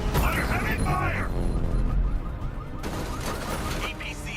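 Sustained heavy gunfire rattles through Batman Arkham Knight, a dense fusillade of rapid shots and mechanical clatter continuing throughout, loud and close, with a voice speaking over the din.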